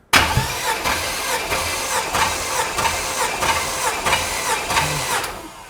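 The V8 engine of a 1955 Buick cranks over during a compression test, a loud, close, rhythmic churning of starter pulses, about a dozen evenly spaced beats with no talking, then stopping.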